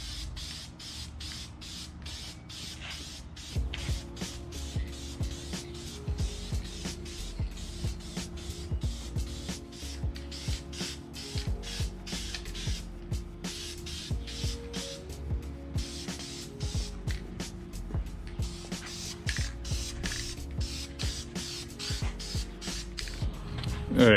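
Aerosol paint sprays onto a cleaned car transmission in short, repeated hissing bursts with brief pauses between them, close and fairly loud over a low background hum.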